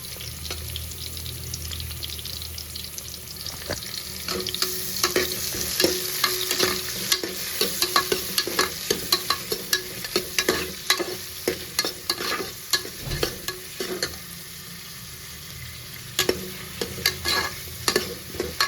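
Sliced onions and green chillies frying for tomato rice, a constant sizzle broken by repeated scraping stirs of a spatula against the pan, close and steady with no talking.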